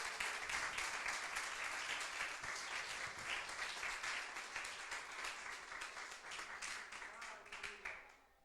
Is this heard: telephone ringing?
no